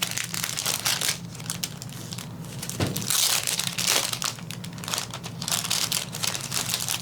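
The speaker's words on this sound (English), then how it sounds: "take it out of its plastic." A wind spinner is pulled free of its plastic packaging, the plastic crinkling and crunching loudly and continuously up close, with one sharper tearing crackle partway through.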